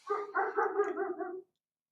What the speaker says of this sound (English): I hear my doggy barking in the backyard.